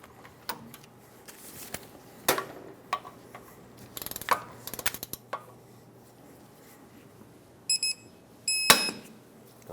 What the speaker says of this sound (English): Now we can torque them all. 149 foot-pounds is the torque.